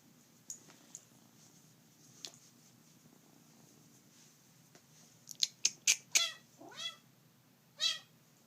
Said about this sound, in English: So you have to like a vocal cat, because I think that's how he's going to be.